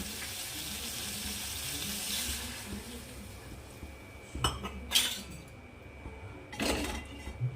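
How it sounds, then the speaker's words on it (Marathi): Water splashes and pours into a pan of drumstick curry in a few short bursts, with light clinks of cookware in a quiet kitchen. "त्यामध्ये पाणी ॲड करू"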